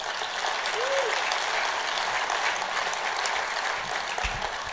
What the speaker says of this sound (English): I want to give a round of applause to Frank Menchaca